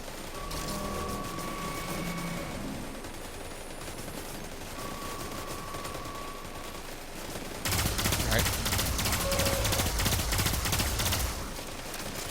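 Rapid gunfire from a grenade launcher in Destiny 2 that fires in a straight line, a dense steady barrage of shots, loudest in the second half, under a low game mix.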